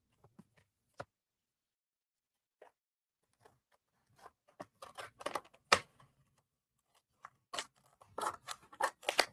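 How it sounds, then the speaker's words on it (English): Scissors snip through material for a custom wreath sign, a few sparse cuts at first and then quicker bursts of crisp, close snips, with no talking. "so let's cut it right here"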